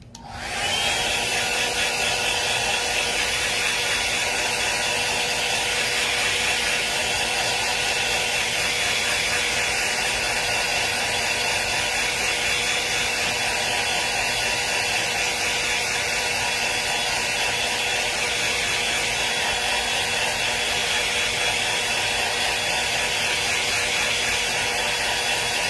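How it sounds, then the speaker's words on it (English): A hair dryer running on its cold setting blows loudly and steadily, switching on abruptly at the start and holding an unbroken whirring hiss with a faint tonal whine throughout. "I'm going to turn my hair dryer on again on cold, so silence your phones."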